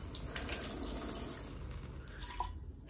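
Water poured from a watering can for bathing a baby, a steady splashing stream that sounds close and continuous, tapering off near the end.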